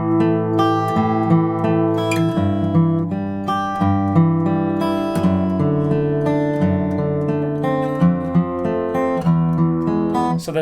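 Acoustic guitar playing the fingerpicked chord progression from a song, with arpeggiated notes over ringing chords. It is clear and close, with a steady rhythm and no voice.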